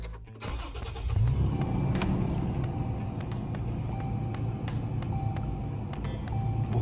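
A Toyota Hilux Revo Rocco SR5 with a 4000cc engine is push-button started in its cabin: a brief starter crank gives way to a steady, close idle hum with faint chime-like beeps over it.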